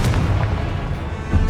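A fiery spell blast in the game Hogwarts Legacy gives a loud, booming explosion with a heavy rumbling low end, lasting about a second and a half.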